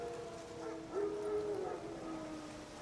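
Wild dogs howling in The Witcher 3: Wild Hunt on Xbox One, a faint drawn-out howl rising over a low ambient bed, heard at a distance for about a second.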